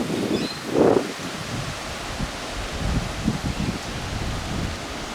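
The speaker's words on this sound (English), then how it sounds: "This is all the dust from the farms being picked up in the wind." Wind sweeps across farmland during a dust storm, a steady broadband rushing roar with gusty swells and rustling throughout, close and loud, with no talking.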